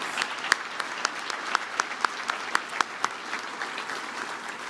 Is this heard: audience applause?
yes